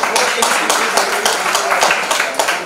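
An audience at an indoor public event gives a short burst of applause to welcome a speaker, dense clapping that rises and falls over a few seconds with no voices on top.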